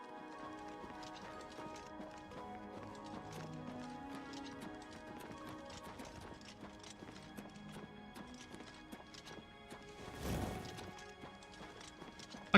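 Horse hooves clip-clopping in the video game Oblivion Remastered, a quiet rapid stream of hoofbeats layered with faint game music and a brief louder whoosh near the end.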